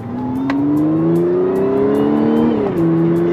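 Audi B8/B8.5 car with a CTS intake accelerating hard, a loud rising engine tone that climbs steadily, briefly dips at a gear shift and then pulls on, heard close with no talk.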